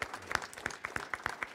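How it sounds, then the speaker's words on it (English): Applause from a studio audience for behind-the-scenes staff at a CBC Newfoundland and Labrador broadcast, a brief burst of scattered, fairly faint clapping with sharp individual claps standing out. "Let's give a big round of applause to the people that we don't normally see here."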